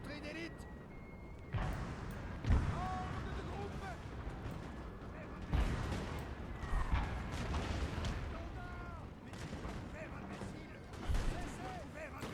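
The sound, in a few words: cannon firing round shot in Total War: Napoleon video game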